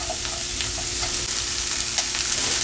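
Garlic frying in a pan, a close, steady sizzle and crackle with faint stirring scrapes throughout.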